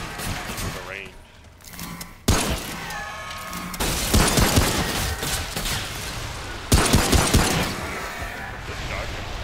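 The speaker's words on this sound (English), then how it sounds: "This shotgun can absolutely ruin things if I get close enough." Heavy shotgun blasts boom and crash close by during a gunfight in the game Remnant: From the Ashes, sharp impacts and shattering mixed with someone speaking over the action.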